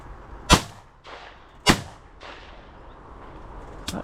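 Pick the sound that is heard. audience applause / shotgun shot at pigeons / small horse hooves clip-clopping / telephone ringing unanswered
shotgun shot at pigeons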